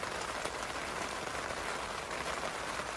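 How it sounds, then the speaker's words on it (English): Heavy rain pelts a camping tent in a storm, a dense, constant patter close overhead with no pauses. "Yeah, it's raining really good."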